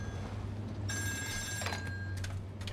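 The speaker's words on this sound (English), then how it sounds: "Oh, I hear a phone." A telephone rings in Still Wakes The Deep, its electronic bell trilling in a couple of bursts over a steady low rumble of the offshore rig's ambience, with no voices.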